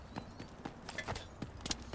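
A few soft, rhythmic footsteps in the Delta Force video game, faint and somewhat distant, tapping in an irregular pattern.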